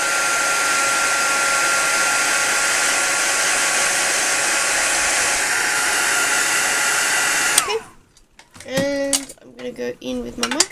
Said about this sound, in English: Just going to quickly heat set that.